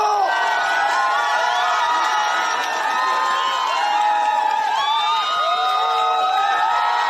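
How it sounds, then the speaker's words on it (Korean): A crowd at a political campaign rally in South Korea cheers and shouts for party leader Lee Jae-myung and candidate Park Soo-hyun, a loud, continuous roar of voices with high whoops and rising yells rippling through it. "여러분, 다시 한번 뜨거운 함성으로 함께 해주십시오."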